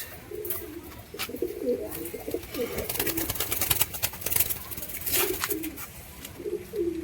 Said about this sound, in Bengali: আপনারা দেখতে পাচ্ছেন ফুলশিরা গিরিবাজ